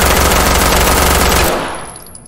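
Loud, rapid automatic gunfire from a gun in a video game, a steady burst of close shots lasting about a second and a half before stopping abruptly and fading into echo.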